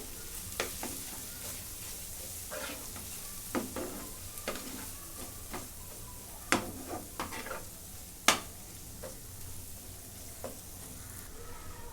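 Homemade onion-garlic masala with turmeric, red chilli powder, coriander-cumin powder and garam masala frying in a pan for egg curry, a steady close sizzle broken by sharp scraping stirs and a few loud spoon knocks against the pan.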